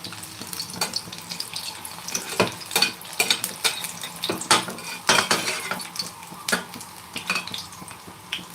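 Corn donuts fry in oil over a low flame, a soft bubbling sizzle broken by frequent sharp clinks and scrapes of a utensil against the pan, close and uneven in rhythm with no talking.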